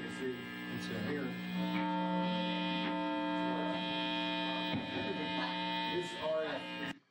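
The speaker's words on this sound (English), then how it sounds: "So he's getting a lot of buzz there." A steady electrical buzz from an electric guitar's single-coil pickups running through an amp hums constantly at a tonal pitch, with a voice talking over it.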